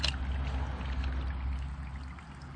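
Muddy water runs through a gold sluice box over paydirt in a low, steady trickling pour, with a faint motor hum underneath.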